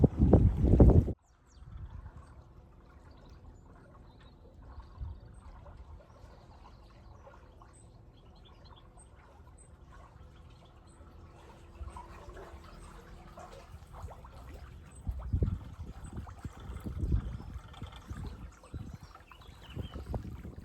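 A narrowboat cruises slowly along the Rufford Arm canal, its engine a faint low rumble with soft water lapping and wind, after a brief loud knock at the start and some louder bumps near the end.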